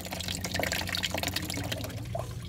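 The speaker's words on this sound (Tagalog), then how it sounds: "Ang kawayang ito na nakatusok sa bato ang siyang nagsisilbing tubo para pagdaluyan ng tubig." Mountain spring water pours from a bamboo pipe wedged into rock, a continuous close trickle and splash that stays steady with no voices.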